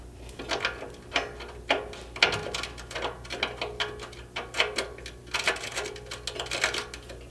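A ratchet tightens the slider mounting bolts on a 100 Series Land Cruiser. Close, uneven bursts of sharp clicking repeat in quick strokes, each followed by a short pause.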